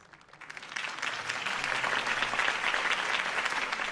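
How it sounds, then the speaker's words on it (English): Crowd applause for Harvey Dent's campaign speech in Telltale's Batman game swells from a few claps into dense, sustained clapping from a large rally audience, with no talk. "If only Mr. Wayne, my campaign's largest backer, could have heard that applause"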